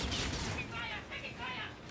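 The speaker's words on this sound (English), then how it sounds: "Who's shooting at you?" Gunfire in Call of Duty: Infinite Warfare, a dense rattle of rapid bursts during an online match, mixed with muffled voices and game noise.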